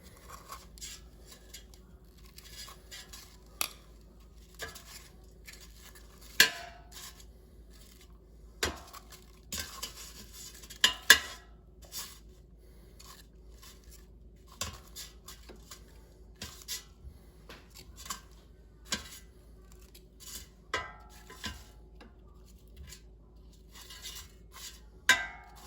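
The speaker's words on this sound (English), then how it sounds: "let's take out the air fryer basket and flip the onion rings so they brown evenly" An air fryer basket is pulled out and frozen onion rings are turned over, making faint scattered clinks, taps and scrapes of metal and utensils against a quiet room hum, with no talking.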